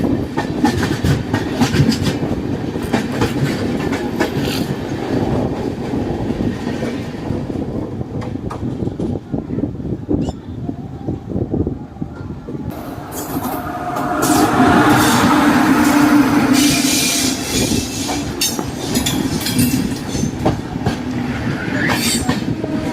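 The Tamil Nadu Express rumbles past on the rails with a continuous loud roar and a rhythmic clickety-clack of wheels. Wheel squeal and wind buffeting on the microphone swell in the later part, and no one speaks.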